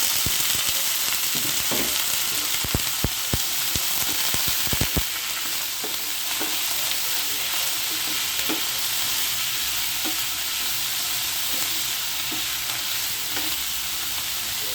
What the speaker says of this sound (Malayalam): നമ്മൾ ഈ അരിഞ്ഞ് വെച്ചതിട്ട് കൊടുക്കാം